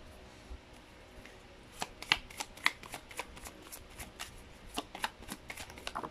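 Tarot cards being shuffled close by: a soft riffling run of quick papery flicks and taps that grows busier and continues alone with no talk.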